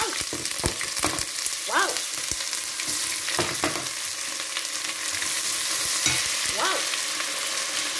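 Onions hit a pan of seasoning and thyme for coconut rice, with a steady close sizzle, scattered clicks from stirring and a voice exclaiming twice over the frying.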